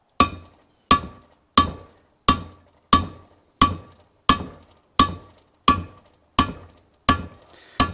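A hammer strikes a metal rod squarely during an Allis Chalmers C engine build: eleven sharp, ringing blows at a steady, unhurried pace, each decaying quickly, close and loud.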